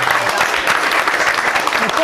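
Short burst of applause at a youth basketball gathering for the under-14 team captain, a steady patter of clapping from a modest group throughout.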